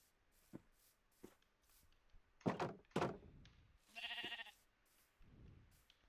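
A Minecraft sheep bleats faintly among soft thumps and clicks of gameplay, the wavering bleat rising clearly once near the middle amid scattered knocks.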